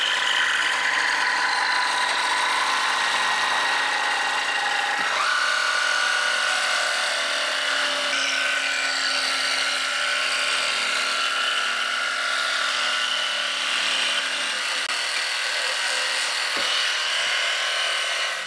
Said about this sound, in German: Weiter geht's mit der Stichsäge, und das schneiden wir jetzt hier schön rund.